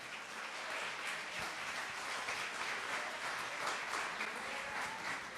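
A church congregation applauds steadily, a dense wash of clapping that stays even and fairly distant throughout, with no clear voices over it.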